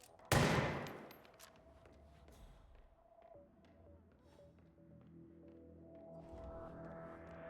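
Gunfire in Hitman 3 opens with one loud, sharp shot that rings out and decays, followed by a low throbbing hum and scattered faint clicks and tones.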